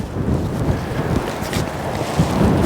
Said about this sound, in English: Very windy out here, folks, so you can excuse the noise